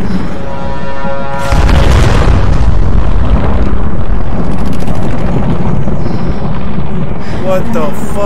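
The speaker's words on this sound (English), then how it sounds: "That's a big explosion." A loud, deep explosion in the video game Tomb Raider: Definitive Edition erupts and rolls on as a sustained rumbling blast, with a voice speaking over it throughout.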